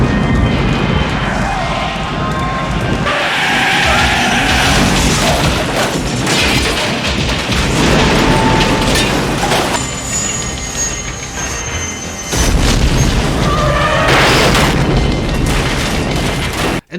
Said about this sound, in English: some great vehicular-based explosions and stunts